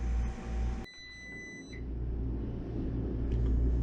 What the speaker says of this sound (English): The annoying timer went off.